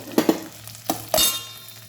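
Curry leaves dropped into hot oil while making wheat semige uppittu, giving short close crackles and a sizzling burst among a few stirring scrapes.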